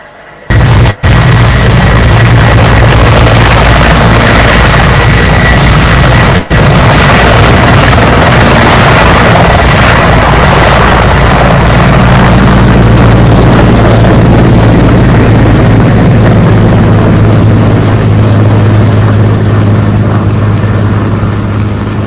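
A military helicopter flies close near the front line around Bunagana, a loud continuous rotor roar and thump that fills the whole stretch with only brief dropouts, no voices.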